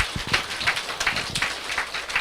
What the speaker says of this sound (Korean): 박수 한번 해드릴까요?